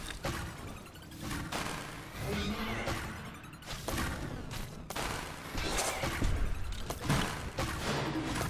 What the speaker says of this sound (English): Oh wow, the autocannon actually managed to get that projectile there.